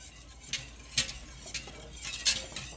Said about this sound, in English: And then we want to whisk it very well and get it all incorporated really nicely